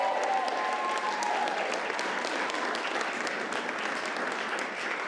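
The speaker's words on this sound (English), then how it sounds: "deserves a round of applause" Audience at a live book-event interview breaks into steady, dense applause, a sustained wash of clapping that stays loud and even throughout with no talk over it.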